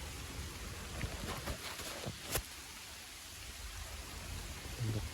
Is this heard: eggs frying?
no